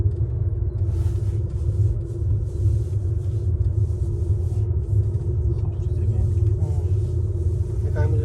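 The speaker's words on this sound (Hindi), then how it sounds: "फर्स्ट टाइम जो है मैं केबल कार में बैठा हूँ" Steady low rumble of a cable car gliding along its line near Harissa, Lebanon, a continuous droning hum that holds throughout without breaks.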